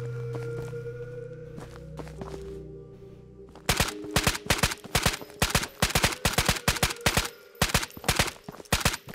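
Rapid bursts of automatic gunfire in the video game Ghosts of Tabor, a fast series of loud, sharp cracks following a quieter stretch of low hum and distant shuffling.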